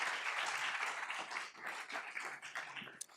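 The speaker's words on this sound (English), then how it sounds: "Let's give Liam a round of applause." Applause for a graduating student at a school board meeting, a fairly quiet room of clapping that swells and dips over a few seconds, somewhat distant and sparse toward the end.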